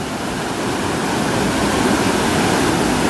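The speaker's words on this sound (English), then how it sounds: "take a look at Davis Brook as it's running today" Davis Brook running full after a night of heavy rain, about seven or eight inches: a dense, steady roar of rushing water, loud and close, with no other sounds.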